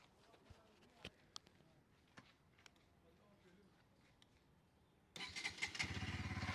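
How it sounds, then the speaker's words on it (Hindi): A Bajaj Pulsar NS200 motorcycle fires up after a few faint clicks and taps, and its exhaust breaks into a loud, throbbing rumble for the last second or so. "मैं आपको NS का पहले एग्जॉस्ट साउंड सुना देता हूँ"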